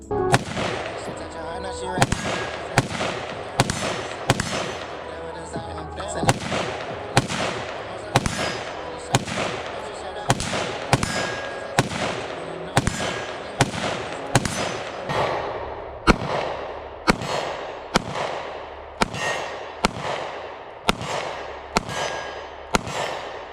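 Gunshots at an outdoor shooting range, including buckshot, ring out as a long series of loud, sharp reports spaced roughly a second apart, with occasional quicker pairs.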